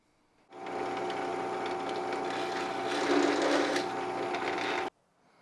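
A drill bores pilot holes into the spine of a car's air scoop ducting on an E46 M3. It makes one continuous whirring run of about four seconds, close and steady, that starts and stops abruptly.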